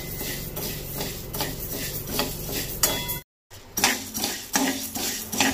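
Mung beans dry-roasting in a pan over a low flame, stirred with repeated scraping and rattling of a utensil against the metal, a rhythmic clatter that breaks off briefly and resumes louder, with no talking.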